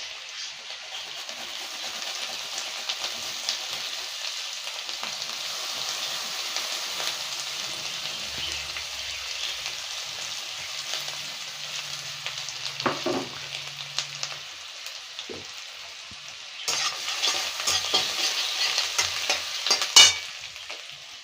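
Chopped garlic and grated ginger frying in oil, a steady bright sizzle that runs throughout with occasional stirring scrapes, swelling louder near the end.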